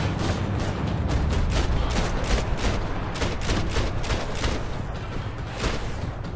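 Gunshots in Max Payne 3, a dense rapid barrage of loud close shots firing almost continuously, with no talking over them.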